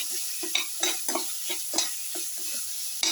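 Tomato pieces frying and being stirred in a pan for an egg casserole: a steady close sizzle broken by about a dozen regular scraping spoon strokes, with no voices.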